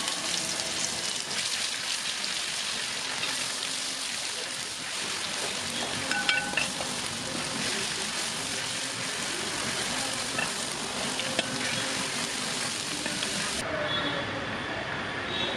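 Ginger garlic paste sizzles and fries steadily in a hot pan while cooking chana masala, a dense, continuous crackle that stays loud and even throughout, with a few faint stirring scrapes near the end.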